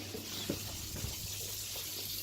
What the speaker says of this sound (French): l'eau commence à couler sur la douche